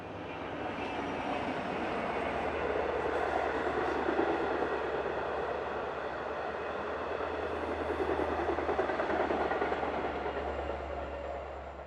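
A train rumbles past steadily at moderate distance beside a wildlife refuge, with a low drone and faint clattering wheels that hold for the full stretch.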